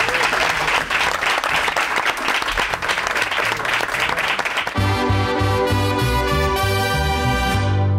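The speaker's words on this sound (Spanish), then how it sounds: "fuerte el aplauso" A radio studio audience gives a loud, dense round of applause for a guest, steady for about five seconds before music with sustained tones takes over.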